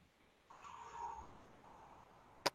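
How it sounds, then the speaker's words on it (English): A house cat meows once indoors, a fairly faint drawn-out cry, and a sharp short click follows near the end. "I gotta let out the fucking cat"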